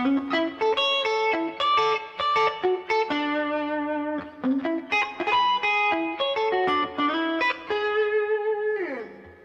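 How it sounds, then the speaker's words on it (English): An electric guitar with a gritty, overdriven tone plays a lead phrase of bending notes and quick runs, loud and close, ending in a sliding note. "It just becomes this like core, nice gritty drive sound."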